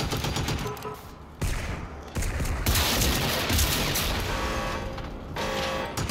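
Shotgun fire in the video game Generation Zero: loud, close blasts cut in abruptly in a few bursts and then roll into sustained, crackling gunfire layered with booms, with no pause in the noise.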